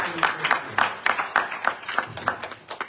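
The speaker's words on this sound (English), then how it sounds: "Give them a round of applause" Audience clapping inside a Hindu mandir during a Navaratri night celebration in Brampton, Ontario; a dense, steady patter of many hands at moderate distance, with some voices mixed in.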